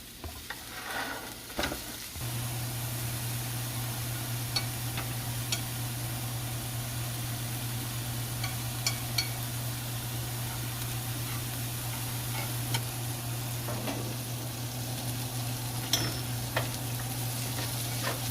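Sausage browning in a hot pan for breakfast biscuit cups, a steady sizzle with scattered ticks and light scraping, constant and close, with no talking.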